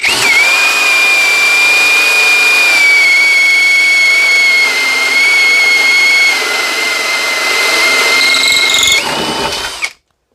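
Loud, continuous high-pitched whine of a Ryobi cordless drill boring a hole at speed 2 steadily for about nine seconds, then winding down and cutting off abruptly.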